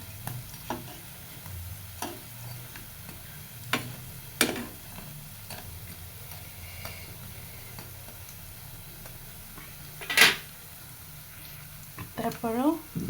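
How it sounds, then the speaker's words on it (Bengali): Boras (fritters) fry in a pan, giving a soft, continuous sizzle with occasional sharp clicks and light scraping of a utensil, while someone talks intermittently. "বড়ার দুই পাশ খুব ভালো মতো ভাজা হয়ে গেছে"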